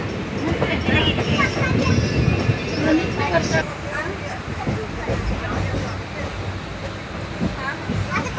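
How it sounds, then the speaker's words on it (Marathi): Passenger train near Sambhajinagar, heard from inside a carriage as it rolls again after a stop, with continuous rumbling and rattling of the wheels and cars under lively chatter from people aboard. "मग रेल्वे थांबली होती, आता पुन्हा चालू झालं होतं"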